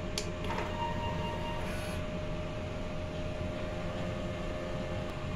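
A DTF printer runs a print head cleaning cycle, giving a faint, steady mechanical hum with a constant whine and a few small clicks near the start, heard alone without talk.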